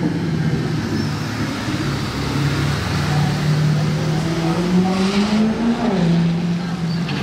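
A sports car with a loud, raspy aftermarket exhaust passes close by in Monaco, its engine note dropping and then blipping up sharply as it downshifts.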